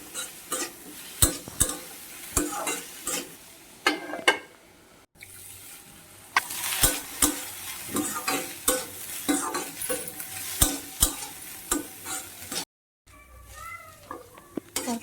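Radish greens stir-fried in a pan, with a steady sizzle broken by frequent sharp scrapes and clacks of a spatula in an irregular rhythm, loud and close, with a brief gap near the end.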